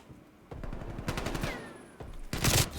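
Bursts of gunfire in Call of Duty while the player mantles over a ledge, with rapid loud shots and a heavier burst near the end, no talking.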